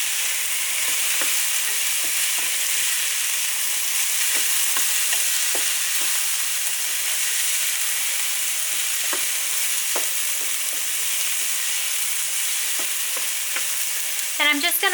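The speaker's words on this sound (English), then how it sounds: "While our asparagus is sauteing" Jalapeno and chopped asparagus sautéing in a pan give a steady, close sizzle that runs throughout, with scattered soft scrapes and taps of stirring and a brief clatter near the end.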